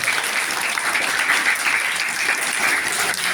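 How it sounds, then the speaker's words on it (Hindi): An audience at an annual prize-giving ceremony for schoolchildren claps for the winners, dense and sustained applause filling the hall at an even, loud level throughout. "तालियां भाई।"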